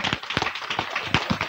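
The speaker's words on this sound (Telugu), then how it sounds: "ఒకసారి గట్టిగా చప్పట్లు పడదాం." A crowd at a family half-saree prayer function claps loudly, a dense patter of many hands with a few sharper claps standing out.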